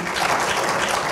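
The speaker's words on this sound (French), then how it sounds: "que vous puissiez applaudir pour ce beau film" Film club audience gathered around the Cameroonian film "Cameroun Connection" applauds, a loud, continuous burst of close clapping filling the brief moment.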